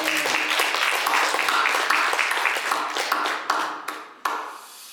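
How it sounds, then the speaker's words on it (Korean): A Korean church congregation claps during a Sunday sermon, a close, lively burst of applause that thins into a few scattered final claps before stopping. "여러분, 기쁘면 하나님께 영광의 박수를 한번 돌려드릴까요?"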